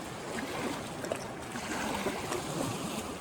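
Steady broadband rush of the New River flowing through the gorge in West Virginia, a continuous even water wash heard alone with no voices.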